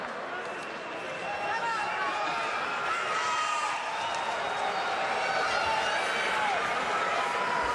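Boxing arena crowd before a middleweight IBF title fight, a dense, continuous murmur of many voices and scattered cheers that swells slightly over several seconds.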